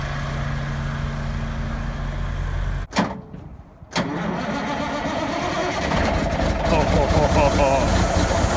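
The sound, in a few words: generator set on a truck starting up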